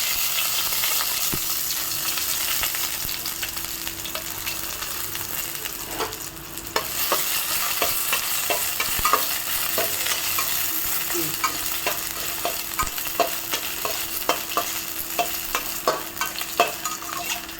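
Pirandai (adamant creeper) stir-fried with dried chillies in a pan, a steady close sizzle with frequent scraping and stirring clicks, no voices.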